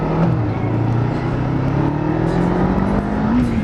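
Used Kawasaki Ninja 500R motorcycle riding on back roads, its engine droning loud and close with pitch climbing steadily as it revs, over constant wind rush.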